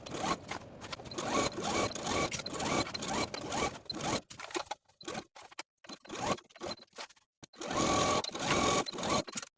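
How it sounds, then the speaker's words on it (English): A sewing machine stitches a dress seam down to the hem for a McCall's 7950 dress, running in loud, fast whirring bursts with short pauses between runs, close up. "continue stitching your seam all the way to the bottom hem"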